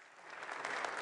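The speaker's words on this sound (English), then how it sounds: "Another round of applause" Applause from a summit audience of world leaders at a NATO gathering hosted by Turkey swells briefly, a dense patter of many hands clapping that grows slightly louder over a second.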